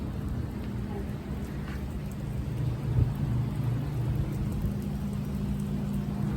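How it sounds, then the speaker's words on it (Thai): Steady rain falls in a dense, even hiss with a low rumble underneath, constant throughout with no clear voices. "ฝนตกแล้วเด้"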